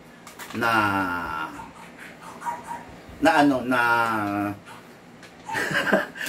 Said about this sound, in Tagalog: nabablanko ko kasi tumatahol yung aso